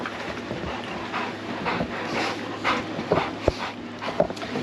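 Excited dogs whimper and pant close by, with soft whines and breathy panting rising and falling over several seconds and no voices.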